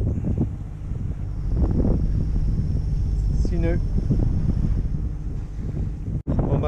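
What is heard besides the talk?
wind arriving at sea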